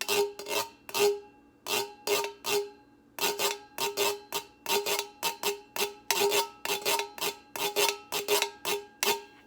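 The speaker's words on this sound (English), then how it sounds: "We've got ourselves a guiro from a can." Rapid rhythmic scraping of a fork across a ridged tin can used as a guiro, short raspy strokes in quick bursts with a ringing tone, close and fairly loud.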